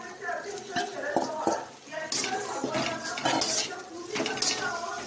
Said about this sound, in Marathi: याच्यामध्ये फ्राय केलेलं कांदा टाकू